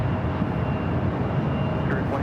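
Airbus A321neo airliner arriving at LAX from Newark, a steady broadband engine roar heard briefly and continuously, fairly close, with a faint whine in the background.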